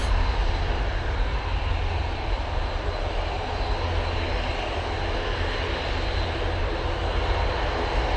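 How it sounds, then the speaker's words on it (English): Loganair propeller plane at Manchester Airport drones with a loud, steady engine roar and rumbling low end, continuous and unbroken, with no talk over it. "So the noisy prop you can hear is a Loganair that'll be going down to Newquay."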